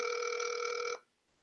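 A telephone rings on an outgoing call, with one steady, bright electronic ring lasting about a second and then cutting off into quiet.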